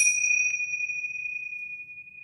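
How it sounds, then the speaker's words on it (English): A pair of tingsha bells struck once at the start of a yoga class, a bright clear ring with a second small chime, then a long pure tone slowly fading over two seconds. "we're going to start our class today with the tingsha bells"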